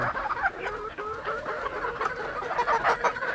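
Four-month-old pullets at a poultry farm clucking and chattering together, a continuous overlapping flock murmur with a few louder calls, moderately close.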